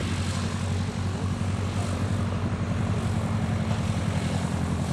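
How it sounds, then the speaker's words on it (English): A Piper Tri-Pacer light aircraft taxis past at a vintage flying weekend, its propeller engine a steady, loud, continuous drone with a low throbbing pulse, close by and unbroken for the whole span. "I think there must be a Tri-Pace that's just taxiing past us."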